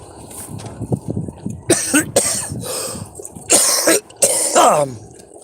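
Harsh, repeated coughing and choking, several rough bursts of hacking and throat clearing in close succession, loud and near.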